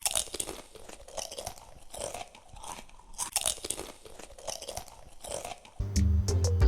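Someone chews a fresh pear or plum close to the mic, with steady wet crunching and biting that comes in uneven bursts, ending with a louder rustling bump.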